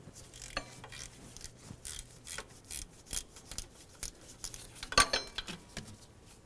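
A ratchet clicking in short bursts while loosening a stud on the power steering pump of a 1994–2002 Dodge Ram 2500, with sharp metallic ticks and one louder clack near the end, close and alone.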